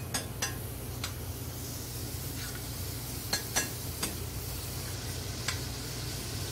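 Apples and a little butter sizzling in hot caramel in a pan, a steady soft frying hiss with a few sharp spits and clinks scattered through, no talking.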